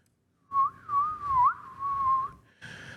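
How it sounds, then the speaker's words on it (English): A person whistles a short wavering tune, rising and falling in a few connected phrases, close and clear against near silence. "I was not trying to whistle"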